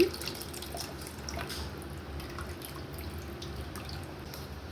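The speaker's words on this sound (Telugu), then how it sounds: "ఇప్పుడు ఇందులో మనం చింతపండు నానబెట్టుకున్నాం కదా, ఇలా ఈ పులుసు వేసుకున్నాము." Tamarind water poured into cooked, mashed spinach dal, a faint steady trickle and drip of liquid with no talking.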